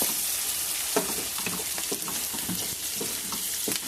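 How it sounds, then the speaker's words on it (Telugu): Onions frying in a pan for a fish curry, a steady close sizzle with soft crackles and occasional stirring scrapes, heard alone without voices. "చూడండి ఆనియన్స్ వేగినాయి, బాగా వేగినాయండి ఆనియన్స్"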